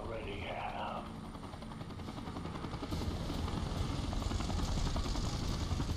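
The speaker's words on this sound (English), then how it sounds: "It's just a couple helicopters" Helicopters flying in the video game Prototype 2, a steady rotor drone that grows louder partway through, with game dialogue over it.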